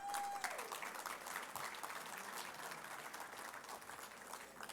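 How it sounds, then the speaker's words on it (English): A dinner audience at a Border Patrol Foundation recognition event claps, a steady, fairly soft round of applause that holds evenly from start to end with no voices over it. "Just a round of applause if you were able to join us for that."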